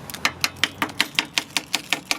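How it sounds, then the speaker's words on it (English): Keys tapping on the steel body panel of a 1988 Ford F-150 4x4 truck, a dozen quick, evenly spaced metallic clicks, close and crisp. "I'll take my keys and you can hear"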